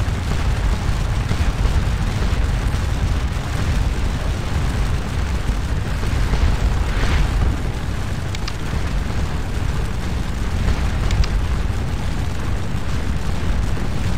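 Artillery in the video game Scourge of War: Waterloo fires nonstop, a dense, rumbling roar of booms and blasts that overlap into one continuous barrage. It stays loud throughout with no voices.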